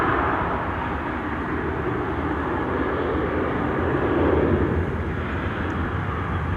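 Airplane landing at Amsterdam Schiphol Airport, heard as a broad, steady jet roar at moderate distance that swells slightly toward the end.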